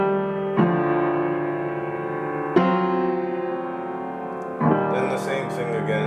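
Piano plays a repeated part of an intro, with three sustained chords struck about two seconds apart, each ringing out until the next.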